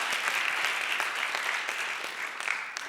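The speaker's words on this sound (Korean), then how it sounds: "우리 박수로 한번 격려해 주시면 감사하겠습니다" A church congregation at a Korean young adults' worship service applauds in encouragement, a dense even patter of many hands that fades slightly toward the end.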